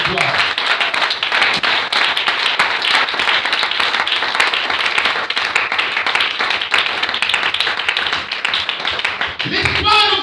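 A church congregation at a French-language worship service breaks into loud, sustained applause and cheering that fills the whole stretch, with voices shouting and calling out through the steady clapping and the noise swelling again near the end.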